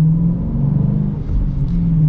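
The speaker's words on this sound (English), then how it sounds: "we'll get up here and get kind of a full-blown acceleration for all of you." A manual Dodge Challenger Scat Pack Widebody accelerating hard, its deep engine drone steady and close from start to finish, with no talking.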